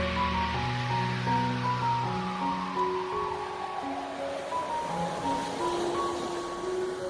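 Stormy sea waves surging and crashing in a continuous roar, heavy and sustained, with a low droning tone running underneath.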